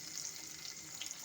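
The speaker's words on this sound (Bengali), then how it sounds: "আঁচটাকে মিডিয়ামে দিয়ে আলুগুলোকে একটু ভেজে নেব" Potatoes frying over medium heat in a pan for a Bengali-style dish, giving a soft, steady sizzle that stays faint and continuous, with no talking.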